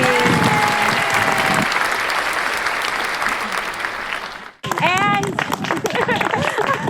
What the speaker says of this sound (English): big round of applause for our first runner-up, the blue team!